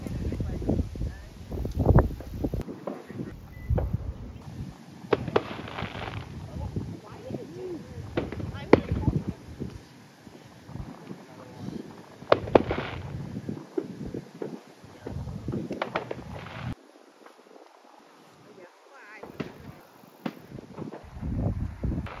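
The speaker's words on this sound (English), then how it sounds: "So they're starting the fireworks right now here." Scattered pops and bangs of July 4th fireworks crackle in the distance over wind noise and rustling, with people talking on and off throughout.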